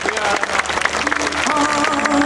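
A church congregation at an Indonesian revival service in a sports hall claps together under loud music and singing, the clapping mixed into a dense, reverberant wash of sound.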